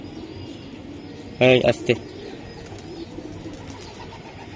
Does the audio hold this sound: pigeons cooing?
yes